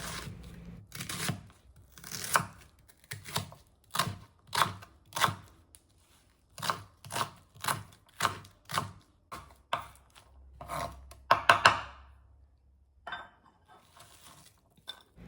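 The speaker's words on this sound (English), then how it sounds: "Then chop the onion." A knife chops an onion on a board, giving a close series of sharp, evenly spaced thuds about once a second, with a quicker flurry of cuts near the end before quiet.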